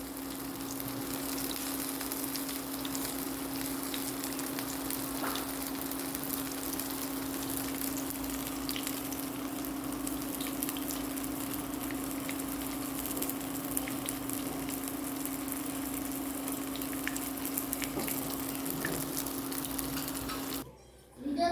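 Taro leaf and chana dal fritters frying in hot oil give a steady, close sizzle that runs unbroken and evenly loud, with a faint stir near the end.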